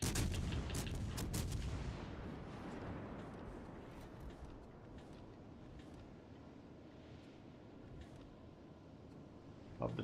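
Naval guns fire in World of Warships Legends, a burst of heavy booming shots at the start that trails into a long rumbling fade with faint distant thuds.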